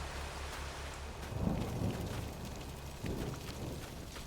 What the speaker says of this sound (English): so you can hear it raining here